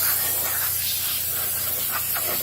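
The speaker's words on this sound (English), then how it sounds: "brake cleaner allows you to shake up and spray your solvent" Brake cleaner sprays from an aerosol can onto the chassis and motor of a 1926 Kissel 6-55 Brougham, a single continuous close hiss lasting a little over two seconds.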